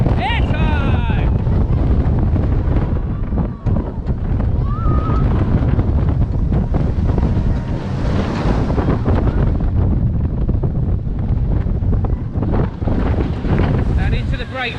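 Strong wind rushes past on the Cheetah Hunt launched roller coaster at Busch Gardens Tampa Bay, a loud, continuous roar with riders' shouts and talk mixed in throughout.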